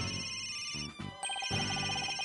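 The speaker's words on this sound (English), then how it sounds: "Where's that ringing coming from?" A cell phone rings in the Ace Attorney: Dual Destinies game as a bright, tonal electronic ringtone with repeating beeps, broken by brief gaps partway through and clear with no talk over it.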